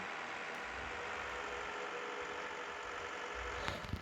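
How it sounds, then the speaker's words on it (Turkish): A low, steady Valtra tractor engine idles throughout, a constant rumbling drone with a faint clatter near the end. "Benim sesimle traktörün sesi karışıyor."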